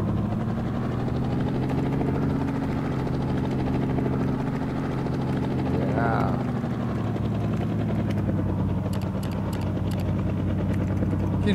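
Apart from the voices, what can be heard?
player-built flying ship in a video game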